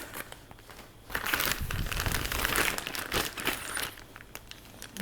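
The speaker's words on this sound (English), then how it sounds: "Came in a Ziploc bag." A Ziploc plastic bag holding power steering pump mounting brackets and hardware is handled close by, crinkling and rustling steadily, louder through the middle, with no talking.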